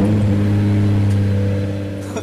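A car engine runs loud and close with a steady, deep rumble throughout, easing off slightly toward the end, with no talk over it.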